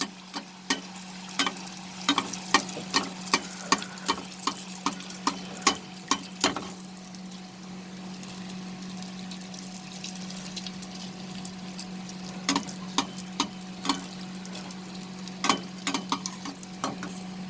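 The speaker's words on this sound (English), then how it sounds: "So I'm going to fry all the puris one by one like this." Puris frying one by one in hot oil, a soft bubbling fry under a constant low hum, punctuated by frequent sharp taps and clinks of a utensil, close and moderately quiet, no talk.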